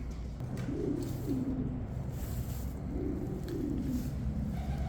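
Soft, low coos of fancy ornamental pigeons repeat in two rhythmic phrases over faint steady background noise, fairly close but gentle.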